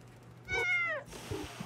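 An orange cat in the video game Little Kitty Big City gives a single clear, rising-then-falling meow, close and moderately loud, followed by a few faint soft sounds.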